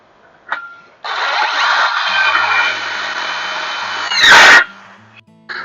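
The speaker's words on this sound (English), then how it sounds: "then we'll drill this hole like we did on the bottom ones, exactly the same." A power drill whirs steadily for about three seconds, then a louder, harsher burst as it bites through, with a low hum underneath.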